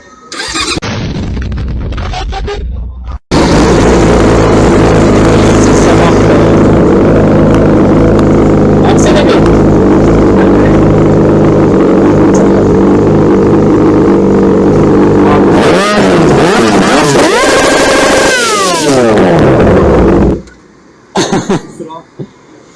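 A very loud motorcycle exhaust roars nearby in a sustained drone, then revs hard in several rising and falling bursts before cutting off abruptly.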